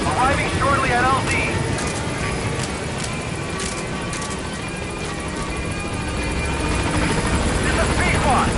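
Pequod helicopter arriving at a landing zone in the video game Metal Gear Solid V: a loud, continuous rotor and engine roar that stays close and steady throughout, with radio voices speaking over it.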